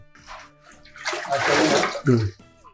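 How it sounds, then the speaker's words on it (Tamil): Water pours into flour in a mixer while making appalam dough, giving a short splashing gush that swells and then stops, with faint voices around it. "ஒரு 4 கப்பு தண்ணி ஊற்றுவோம்."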